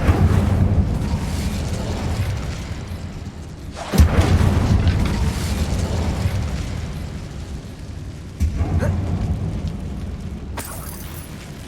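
Incendio fire spell blasts in Hogwarts Legacy inside an abandoned mine, rumbling bursts landing around four and eight seconds over a steady low roar, with a sharper flare near the end.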